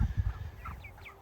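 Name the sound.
meat chickens clucking on a farm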